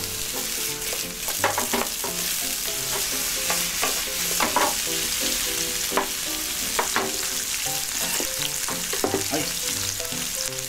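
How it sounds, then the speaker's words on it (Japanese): Onions stir-fried in vegetable oil in a large frying pan for pad thai: a loud, continuous sizzle close by, broken by frequent rapid scrapes and clatters from vigorous tossing. "温まってきたらサラダ油で、最初に玉ねぎの、香りが出るまでね、ちょっとガッと炒めていきます。"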